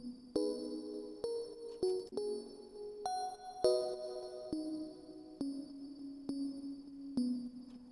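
Bright, sparkly synthesizer chords in a remix production session, a sequence of plucky rolled notes entering one after another at a moderate pace, clear and alone without any voice.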